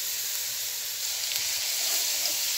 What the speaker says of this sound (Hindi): अब इसमें लहसुन अदरक का पेस्ट डाल दें